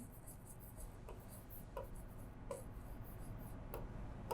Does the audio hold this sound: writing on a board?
yes